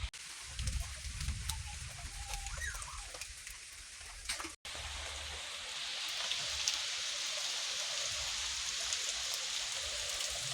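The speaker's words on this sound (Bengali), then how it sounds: "খুবই সুন্দর বৃষ্টি হচ্ছে" Steady rain falls outdoors after hot weather, a continuous broadband hiss that grows slightly louder and denser partway through, with a brief dropout near the middle and a faint rooster-like call early on.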